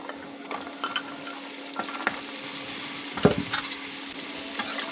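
Onions with whole spices and cut jackfruit seeds frying in oil in a pan, a quiet steady sizzle broken by repeated light scraping and clicking stir strokes and one louder knock.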